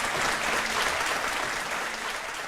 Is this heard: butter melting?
no